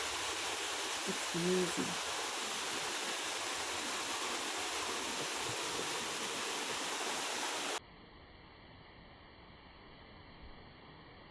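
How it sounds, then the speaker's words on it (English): Waterfall at Sohra in Meghalaya, a steady broadband roar of clear falling water close by, with a brief voice over it before the sound drops to a thinner, quieter wash near the end. "this is one of the clearest waterfall I have seen in Meghalaya"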